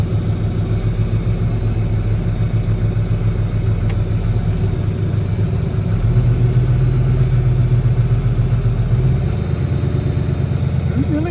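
A truck engine runs steadily while driving on a dark winter morning, a continuous low rumble with a mid-range drone that swells slightly midway, with no talk.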